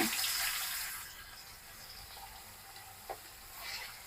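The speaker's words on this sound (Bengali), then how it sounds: "আর এখানে যে অবশিষ্ট তেলটা আছে আমি এখানে ভেজি সয়াটা ভেজে নিব।" Veggie soya frying in leftover oil in a pan gives a close, hissing sizzle that is loudest at first and then settles into a softer crackle, with a single sharp tap near the end.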